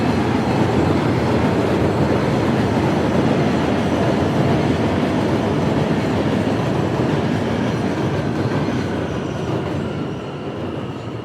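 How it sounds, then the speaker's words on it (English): A train rolls past continuously for about eleven seconds, a loud, close, steady rumble of rail cars with clickety-clack wheel noise, fading slightly at the end. "And here comes another train."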